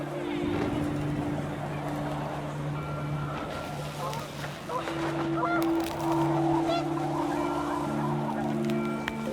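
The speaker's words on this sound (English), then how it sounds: "The wind picked up, and panicked geese appeared and quickly went." Panicked geese honk in the game What Remains of Edith Finch, a few calls rising over steady wind and a low engine-like drone with music tones, loud and continuous throughout.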